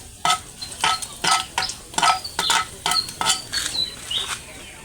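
Chicken with garlic and ginger is stirred in a hot pan with repeated scraping strokes and a light sizzle underneath, steady rhythmic bursts about every half second, close by.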